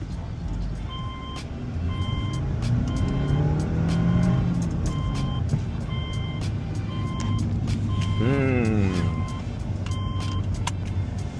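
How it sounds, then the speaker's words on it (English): Cabin sound of a 2008 Subaru Legacy 2.5 fitted with a Cosmo Racing intake while driving, a steady engine drone that swells as revs climb, with repeated electronic beeping tones over it. "First drive. Cosmo Racing Intake. See what she sound like on the inside."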